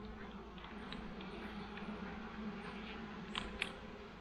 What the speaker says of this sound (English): Smoke these bees down.